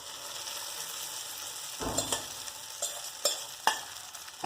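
Sabudana (sago pearls) sautéed with salted green chillies in a pan, a steady sizzle broken by several scraping stirs of the spatula, close and alone.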